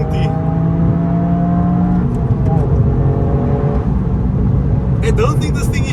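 A Toyota Yaris GR engine revs hard past 7,000 RPM, a steady loud drone with rising whine tones that climb in pitch as the car accelerates, running continuously close to the listener.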